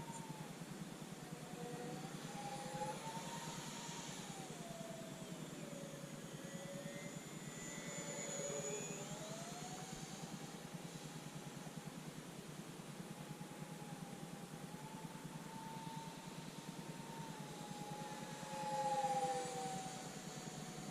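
A twin 40mm EDF XFly Su-57 RC jet flies overhead outdoors in autumn, its thin fan whine rising and falling in pitch over a steady background hiss throughout.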